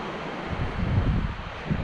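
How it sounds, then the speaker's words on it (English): Small ocean waves break and wash on an empty shoreline on a summer surf day, a soft rolling rush mixed with wind noise, rising in the middle and easing off, with no talking. "Little waves."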